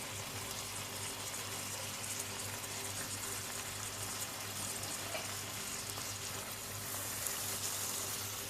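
Tomatoes and green chillies frying in a pan with golden-brown onions: a dense, continuous hiss and crackle of hot oil, loud and close, steady throughout with no voices.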